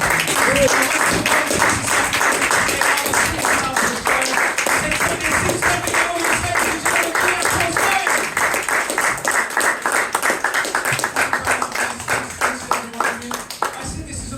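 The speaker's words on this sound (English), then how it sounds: "give these guys a massive round of applause." Audience at a fringe hypnosis show applauds its participants, a loud sustained round of clapping with a strong rhythmic pulse that carries on for about fourteen seconds before thinning near the end.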